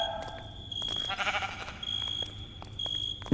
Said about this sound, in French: il y a le mouton. Contourne-le.